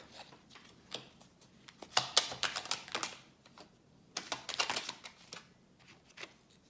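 Oracle cards are shuffled by hand in two brisk bursts of rapid papery flicks and clicks, separated by a quiet pause, with a few soft taps around them.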